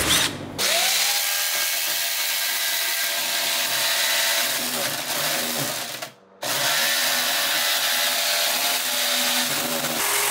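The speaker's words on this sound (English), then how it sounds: "Drill and rivet it." A power drill bores through a steel panel for a welding cart to take rivets, running loud and steady nearly throughout with a brief stop partway before starting again.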